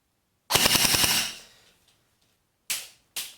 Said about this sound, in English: let's see now in terms of rounds per second, how many rounds per second can we get with the stock battery again.